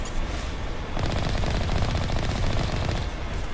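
Sustained automatic gunfire from Mass Effect Legendary Edition, a dense rapid stream of shots rattling steadily for several seconds, loud and close with no voices over it.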